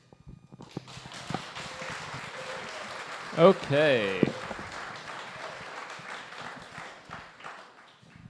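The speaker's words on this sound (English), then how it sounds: "that was enough applause, I think, for the whole evening" Audience applause rises at a Santa Cruz County District 5 supervisor candidate forum: a steady patter of clapping through most of the stretch, mixed with speech and a brief louder burst near the middle.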